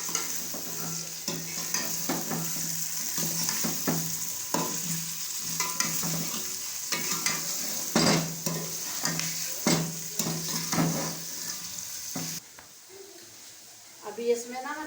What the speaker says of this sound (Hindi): ये गोश्त डाल दिया बीच में। अब ये पकेगा